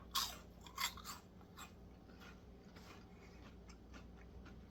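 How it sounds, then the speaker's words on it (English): Crisp crunching bites of Lithuanian fried bread (kepta duona), a few sharp crunches early then quieter chewing, close up with no talking. "super crunchy on the outside, slightly chewy on the inside"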